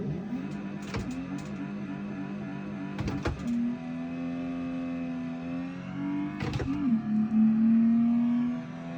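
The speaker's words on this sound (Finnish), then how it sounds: "Tässä otetaan vähän pikalähtöä ja katsotaan paljon tää Bemari kulkee" A BMW in the racing game Assetto Corsa pulls away from a quick standing start, its engine droning steadily and climbing in pitch, broken by sharp gear-shift cuts and short dips, loud and close throughout.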